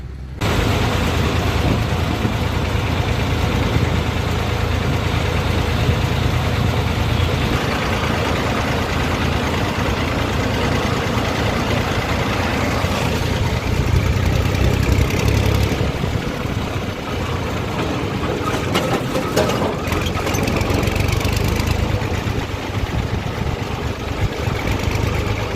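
A farm tractor idles at a grain market yard in rural Gujarat, its low, steady engine rumble running unbroken for the whole stretch with some background clatter and no speech.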